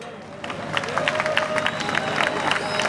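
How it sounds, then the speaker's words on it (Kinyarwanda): A crowd applauds Burundi's President Évariste Ndayishimiye, with scattered claps building into a sustained round of clapping amid cheering and murmuring voices. "amashyi menshi kuri perezida wacu"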